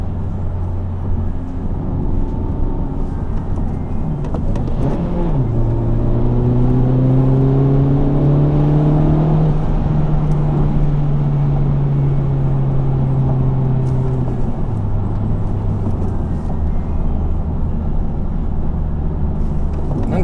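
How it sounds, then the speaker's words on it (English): A Honda Civic Type R with a transmission problem pulls through its gears, engine pitch climbing in steady sweeps with brief drops at each shift, loud and close inside the car over constant road noise. "I'm just shifting around just to kind of feel the gear shifts"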